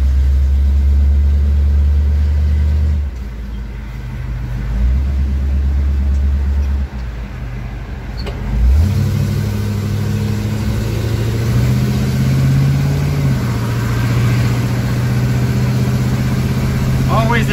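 A 1983 Jeep CJ-8 Scrambler with a 350 engine rumbles loudly up close, its low engine note dipping and rising as it shifts and pulls away.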